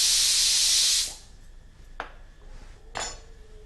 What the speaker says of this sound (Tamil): அப்பப்போ நீங்க உங்க ப்ரெஷரை வந்து லைட்டா ரிலீஸ் பண்ணி விட்டுடுங்க